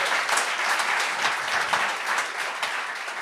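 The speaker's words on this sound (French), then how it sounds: "Ah, OK, on peut l'applaudir." A live audience gives a comedian steady, loud applause, dense clapping that holds throughout at an even level.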